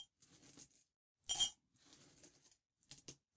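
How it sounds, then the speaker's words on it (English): Coins from a coin collection tumbling into a bucket of water, a few separate clinking bursts with one loud splashy clatter in the middle, close and isolated. "Maybe these are going to accidentally fall in a bucket of water."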